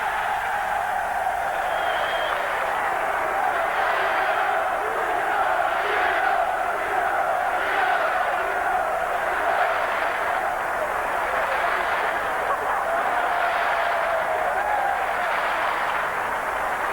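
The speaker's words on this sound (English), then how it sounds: "the loudest cheer of all coming for Charlton's all-time record goal scorer" Football crowd at Charlton's ground roaring and cheering for record goal scorer Derek Hales, a loud, sustained wash of massed voices that holds steady with small swells.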